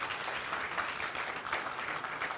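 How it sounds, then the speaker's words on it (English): Audience clapping at a developer conference livestream, a steady dense patter of many hands applauding together, moderately loud, with no clear voices. "He deserves one more round of claps,"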